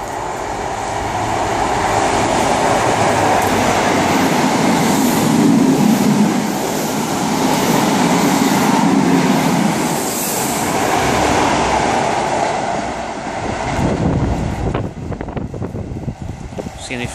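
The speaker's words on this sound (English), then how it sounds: "we got another Great Western HST passing" A Great Western HST passenger train roars past at close range, its steady rumble building and holding for most of the time before easing off, with rhythmic wheel clatter over the rails.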